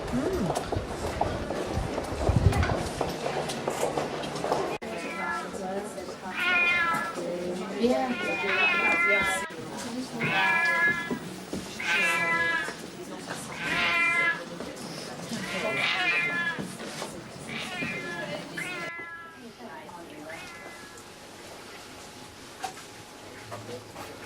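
Cats meow repeatedly in a steady series of close, clear calls, with some background noise and movement early on.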